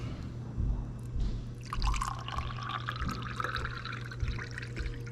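Tap water from a sink runs and splashes into a container for several seconds, a steady close trickle with small drips and gurgles, no voices.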